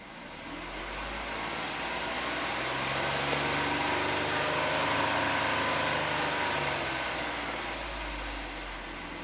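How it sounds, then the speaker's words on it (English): A car engine held at raised revs around 2500 RPM hums steadily, fairly faint and even, swelling slightly midway with no talk. "Increase RPM to 2500."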